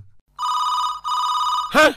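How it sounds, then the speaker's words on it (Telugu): An indoor telephone rings in two clear electronic bursts, close and loud, in a Telugu TV serial scene, cut off at the end by a short voiced sound. "సార్ వాడు ఫోన్."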